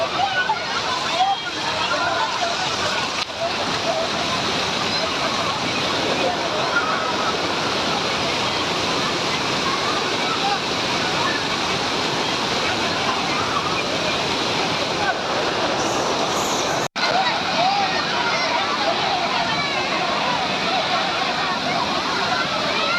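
The Courtallam waterfall in flood roars with a loud, dense, unbroken torrent of rushing water that fills the whole scene, with one brief sharp break near the end.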